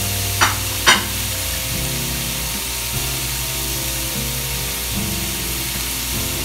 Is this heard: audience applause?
no